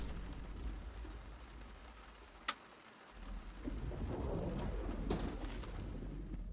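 Thunderstorm in the flight game Deadstick, with a steady wash of rain, a sharp crack of thunder early on and rumbling swells later, no voices.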